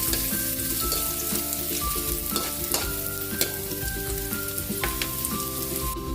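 Garlic fries with pork steak in a hot pan, giving a steady dense sizzle with a few clinks of stirring and no talk.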